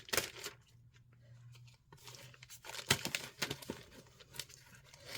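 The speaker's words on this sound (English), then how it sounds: "And I'll just get it cut open here." A cardboard mail package box for a monthly witchy subscription is sliced and torn open at close range, with scratchy tearing and crinkling strokes in irregular bursts and short pauses, no talking.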